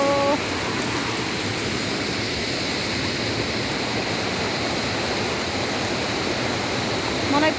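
Water rushes steadily down a stream below the Sivapuri hiking trail, a constant, loud broadband rush that holds even for the whole stretch with no pauses.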